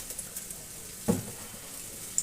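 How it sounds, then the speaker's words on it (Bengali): Oil in a pan while cauliflower cooks, a faint, low sizzle with one brief louder burst of spitting midway and a small clink near the end. "তেলে দিলে আবার ছ্যাড়া ছ্যাড়া শুরু করে দেবে। এবার তেল দিয়ে দিচ্ছি।"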